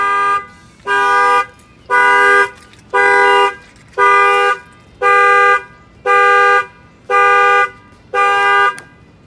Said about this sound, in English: And that will fire off the alarm.